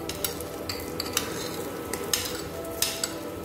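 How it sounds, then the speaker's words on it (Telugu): Cumin seeds and green chillies fry lightly in a pan for tomato mint chutney, a soft continuous sizzle broken by repeated scraping strokes of a spoon stirring, close by. "దీనిలో కొద్దిగా లైట్ గా వేయించుకోవాలి వీటిని"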